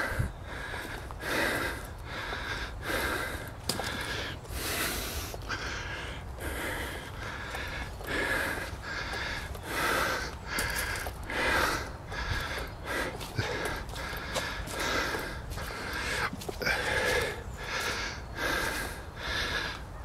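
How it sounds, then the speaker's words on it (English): Heavy, rhythmic breathing from someone climbing uphill outdoors, with repeated loud huffs and sniffs close to the microphone. "Sorry about my heavy breathing, but I'm climbing uphill."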